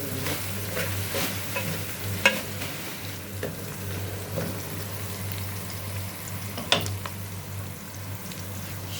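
Onions fry in a pan with salt, a steady low sizzle with faint stirring scrapes and a couple of clicks against a background hum, no voices.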